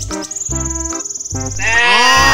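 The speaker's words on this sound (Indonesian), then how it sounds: "Dan yang ini ada kambing berwarna coklat teman-teman." A brown goat at a livestock farm bleats in several loud, close, wavering calls, repeated in quick succession with short pauses between them.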